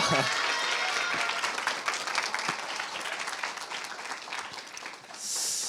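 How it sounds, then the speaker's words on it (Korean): Applause for mentors from an audience at a winter youth camp concert runs steadily for several seconds at moderate level, with crowd noise and voices mixed in and fading a little near the end. "나가실 때 머쓱하니까 박수 한번 계속 쳐드릴까요?"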